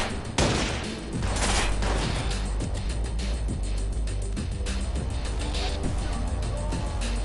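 Rapid gunfire in the Watch Dogs video game comes in dense bursts of loud, overlapping shots with sharp cracks, over a busy backdrop of engine and street noise.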